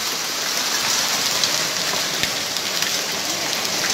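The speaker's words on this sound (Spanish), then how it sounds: "Está cayendo granizo." Hail falling during a strong storm in Ñuble, Chile, a dense, steady hiss of pelting ice on surfaces that continues evenly throughout with no talk.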